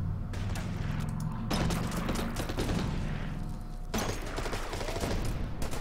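Wargame battle in Order of Battle with sustained rattling gunfire and booming artillery blasts in dense, continuous waves.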